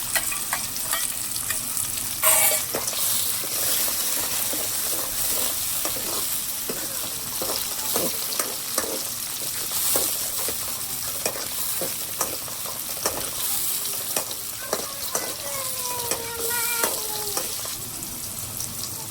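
Tomatoes sizzle in a hot pan while cooking a leafy greens dish, with a continuous crackling fry, stirring scrapes and a few brief tonal squeaks over the top, no voices.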